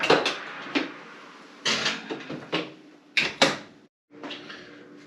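Scones going into a kitchen oven: a series of clanks and knocks from trays, the oven door and metal racks, close and irregular, with short pauses between the bumps and no voice.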